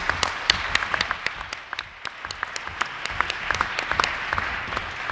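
Audience applause at the close of an academic talk on scholarly responsibility, steady dense clapping with sharp individual claps standing out, moderately loud and sustained throughout with no talking.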